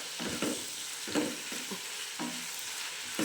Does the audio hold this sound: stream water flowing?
no